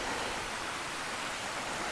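Steady broadband rush of water running outdoors on the Appalachian Trail, a continuous even hiss close by with no voices.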